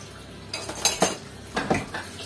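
Kitchen dishes, small bowls, whisks and spoons clink and clatter as they are handled after baking a kefir pie, a few distinct bursts of rattling close by with quiet pauses between.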